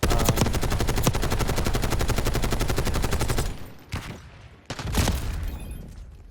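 Rapid sustained bursts of XMG machine gun fire in Black Ops 6 multiplayer, loud and close, with a dense rattling rhythm for several seconds before breaking into shorter separate volleys.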